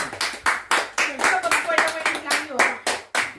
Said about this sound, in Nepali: ल ताली ताली